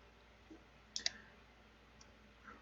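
Two crisp, close computer mouse clicks come in quick succession, with a few fainter ticks on either side over a quiet room.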